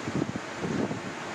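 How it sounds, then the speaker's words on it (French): A light outdoor breeze during a bodyweight leg workout, heard as soft, steady wind rush against the microphone with a few faint low gusts. "température parfaite, un petit vent là"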